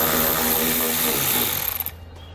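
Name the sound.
10mm socket removing a bolt inside a Jeep wheel well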